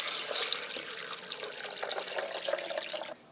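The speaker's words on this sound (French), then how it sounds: "On ajoute 1 litre d'eau claire." Clear water poured from a container into a blender holding soaked almonds for homemade almond milk, a steady, fairly loud splashing rush lasting a few seconds before stopping abruptly.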